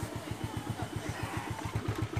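A Yamaha Mio Sporty motorcycle with an engine problem runs at idle, its steady, rapid low thudding pulses close and continuous, with no speech.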